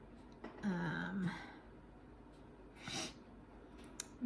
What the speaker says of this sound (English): I've got a little bit of a runny nose and the sniffles